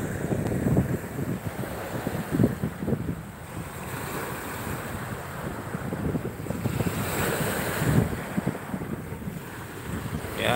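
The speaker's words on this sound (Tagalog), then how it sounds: "Medyo malakas ang hangin at malalaki yung alon." Strong wind buffets the microphone on a boat in Manila Bay as big waves slap and surge, a rough, gusty roar that swells and ebbs throughout with no talk.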